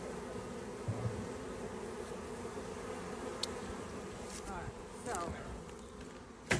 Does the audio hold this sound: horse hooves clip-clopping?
no